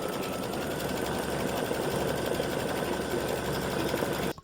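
An embroidery machine stitches a decorative fill on appliquéd pumpkin flip-flop insoles, a steady close, fast mechanical whirring with rapid needle pulses that runs loud and even, then abruptly stops near the end.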